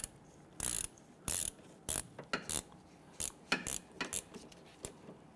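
Ratchet clicking in repeated short bursts while snugging caliper bracket bolts on a 2011-2015 Kia Sorento during rear parking brake shoe work, close and fairly quiet, with brief pauses between strokes and no talking.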